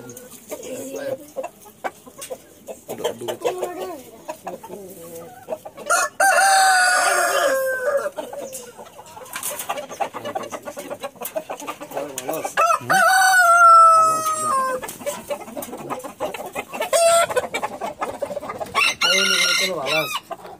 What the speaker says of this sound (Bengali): দেখতে বাহামা খুবই চমৎকার মুরগি